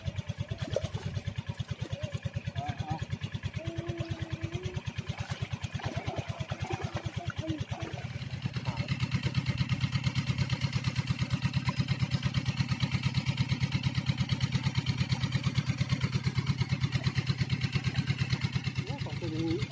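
Engine of a water pump running beside a fishing spot, a steady mid-pitched chugging drone that grows louder partway through, with people talking over it.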